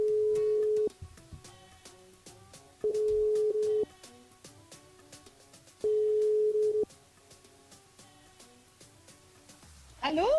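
A telephone rings out on a live radio call to a listener: three steady electronic ring tones, each about a second long and separated by pauses, ending with a brief burst of other sound.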